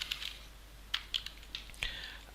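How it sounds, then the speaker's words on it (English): Keystrokes on a computer keyboard while Python code is typed, a scattered handful of light, close clicks in short bursts with pauses between them, faint and with no talking. "So what I can use, I can type os.system,"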